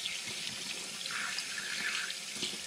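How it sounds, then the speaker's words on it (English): Celery stalks rinsed under a running kitchen tap, a steady, close rush of water splashing into a sink that continues without pause. "I'm going to rinse off this last little bit here."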